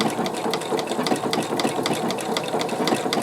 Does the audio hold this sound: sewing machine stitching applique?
yes